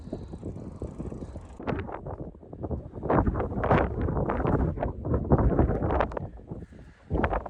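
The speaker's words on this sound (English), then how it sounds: "the wind's just blowing" Strong headwind buffets the microphone of a bicycle on a coast-to-coast ride, a loud, continuous roaring rumble with gusty surges throughout and no voices.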